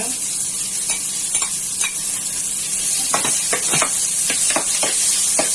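Ginger frying in a pan with garlic for chicken tinola, a steady loud sizzle with scraping stirs of a utensil repeating through it, close and without talk.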